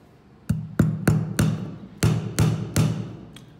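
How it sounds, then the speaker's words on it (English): A hammer drives a skinny nail with seven sharp, evenly spaced strikes and a final lighter tap, each a crisp close impact with a short ringing thud, no talking. "Let's drive a skinnier nail."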